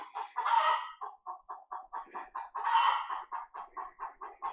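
Backyard chickens cluck in quick repeated bursts, with two louder squawking calls rising above the chatter, close by and with no voices.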